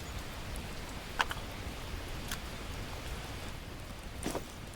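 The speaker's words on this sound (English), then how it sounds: "Rain, can you just stop?" Steady rain falls in The Last Plague: Blight survival game, a soft continuous hiss with a few faint drop patters, heard quietly and alone.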